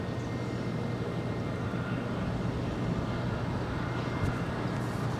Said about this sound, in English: 787-10 Dreamliner, now pushing back from the west gates at Tom Bradley, wearing the KLM 100th year livery